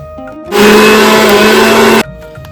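A mixer grinder grinding semolina whirs loudly for about a second and a half, starting and stopping abruptly, with quieter background hum before and after.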